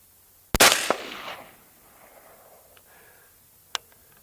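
A single sharp rifle shot fired through a Continental 2-12x44 scope while hunting, a loud close crack with a short decaying echo, followed later by a faint distant click.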